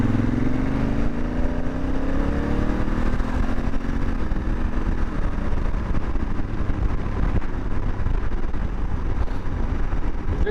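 A Honda Africa Twin with DCT automatic gearbox rides along, its engine droning steadily with a rising tone early on, mixed with heavy wind and road rumble, loud and close throughout.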